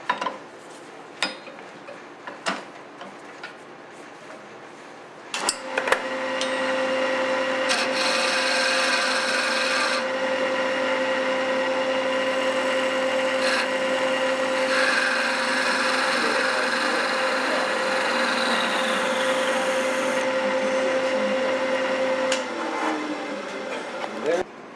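A wooden salt shaker is parted off on a lathe, giving a steady scraping, rubbing grind of tool on spinning wood that lasts most of the clip after a few brief knocks, with a voice heard briefly.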